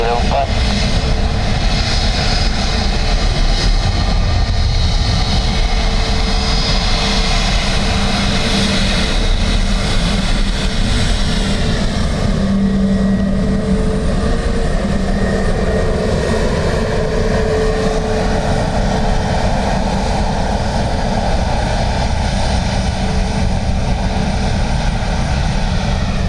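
A Ryanair airliner from Madrid arrives at Dublin Airport in a crosswind, a broad, steady engine roar rising and shifting as it passes over, heard at a distance for the whole stretch.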